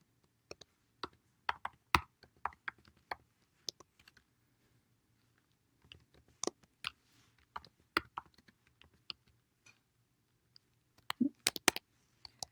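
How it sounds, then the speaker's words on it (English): Sparse, quiet keystrokes tap on a computer keyboard, coming in irregular clusters with pauses in between and a quick flurry near the end. "I'm going to type the rest of this now"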